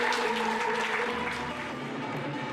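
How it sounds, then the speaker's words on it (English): A festival crowd at the One Korea Peace Festival applauds a dance of twirling sangmo hats, a broad wash of clapping mixed with sustained musical tones from the stage, fairly close and with no speech. "The dynamic twirling of sangmo hats brings out loud applause"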